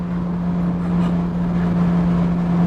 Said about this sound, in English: I hope the mic is picking up that exhaust sound